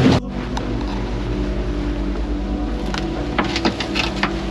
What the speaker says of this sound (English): we're just pounding our way out, doing some pretty sweet jumps over some of these waves